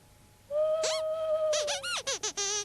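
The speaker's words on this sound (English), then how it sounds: "That's just an owl, Sweep." A stylized owl hoot from a children's puppet show rings out as a long, steady whistled tone, followed by a run of squeaky, bending chirps and short bursts, fairly loud and alone.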